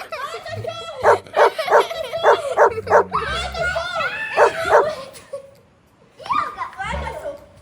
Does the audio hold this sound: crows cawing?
no